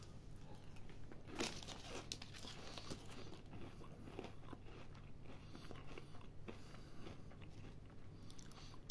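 A crispy, crushed B-Ready Nutella cookie bar gives a sharp crunchy bite, followed by close, quiet crackly chewing and crinkling that runs on for several seconds.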